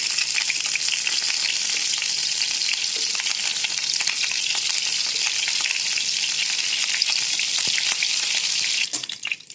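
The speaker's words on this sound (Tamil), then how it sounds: "இந்த மிளகாயை வாயில் வச்சு ஹீட் பண்ணிக்கோங்க. வதக்கிக்கணும்." Capsicum sizzles in hot oil in a pan as it is sautéed for an omelette, a steady, close frying hiss with faint stirring and no talk.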